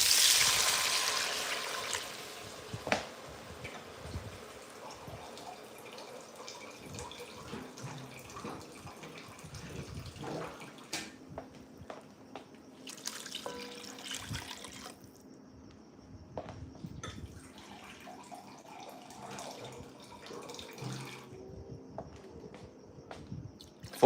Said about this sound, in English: four and a half cups of water.